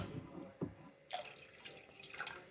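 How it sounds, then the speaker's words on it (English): Warm water poured into a container for a snow experiment, a soft, faint trickle and splash with a few small drips and gurgles, heard close up in a quiet room. "I'm adding warm water."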